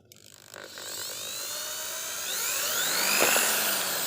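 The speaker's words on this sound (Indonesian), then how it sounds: "Kita mulai bor dulu teman-teman." A power drill bores a hole, starting with a high whine that settles into a steady, fairly loud grinding drone which rises slightly toward the end, with no talk.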